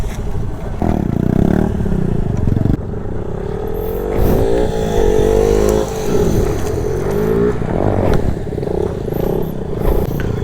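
A Bajaj Pulsar NS 160 motorcycle during wheelie practice, its engine revved loud and close, with rising and falling pitch sweeps, surges and some mechanical clatter.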